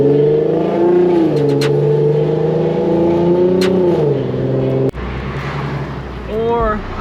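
A Nissan VQ engine fitted with resonated test pipes revs through its exhaust, rising and falling in pitch as the throttle is blipped. The rasp is loud and close, with a sharp drop and a shift in tone partway through.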